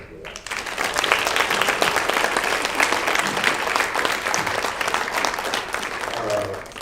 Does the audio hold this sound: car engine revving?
no